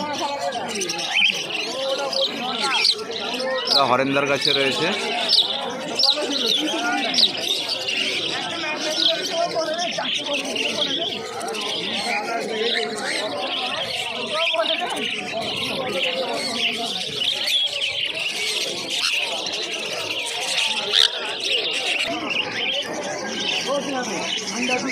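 Sun conure and jandaya conure parrots calling amid other caged birds at a busy pet market, with steady chirps and squawks running throughout beneath people talking.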